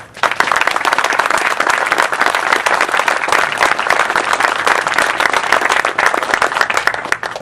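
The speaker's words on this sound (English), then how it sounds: "Please give them a round of applause." Loud, dense applause from an audience honoring Marines and a Marine Division band at a retirement ceremony, sustained steady clapping close by that fades at the end.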